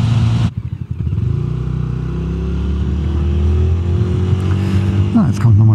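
A Lambretta G350 retro scooter cruising at a steady 100 on a country road, its engine droning continuously and loudly up close with wind rush, the tone rising slightly toward the end.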